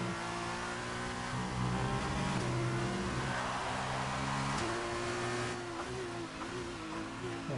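An F2 race car's engine in a racing game revs hard at close range, its pitch climbing through gear changes with brief dips at each shift, loud and alone without voices.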